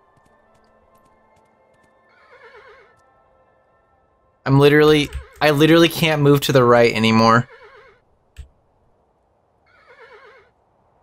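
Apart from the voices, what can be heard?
horse neighing in the video game Kingdom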